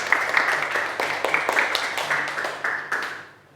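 Classroom applause for a student group at a teaching assessment: a few hands clapping in an uneven, sparse patter, moderately close, fading out toward the end.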